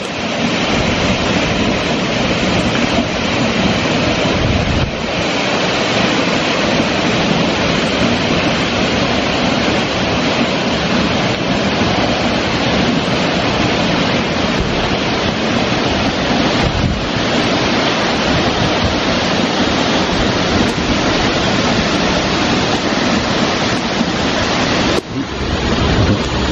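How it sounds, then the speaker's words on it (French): Rossignolet waterfall near Mont-Dore, roaring as a loud, constant broadband rush of falling water with wind buffeting the microphone, steady throughout with no voices. "la cascade du Rossignolet"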